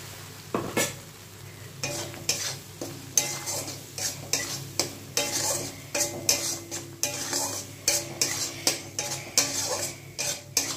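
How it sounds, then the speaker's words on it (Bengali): Koi fish curry is stirred in a pan before mustard and poppy seed paste goes in: a utensil scrapes and clinks against the pot in a regular rhythm over a faint, continuous sizzle. "এই দিয়ে একটু নেড়ে আমি সর্ষে আর পোস্তর পেস্টটা দিয়ে দেবো।"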